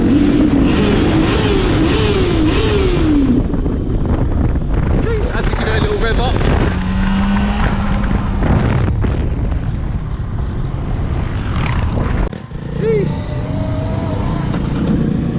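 Dirt bikes passing along a country lane in Kent near a motocross track, engines rising and falling in pitch as they go by, mixed with steady wind buffeting the microphone.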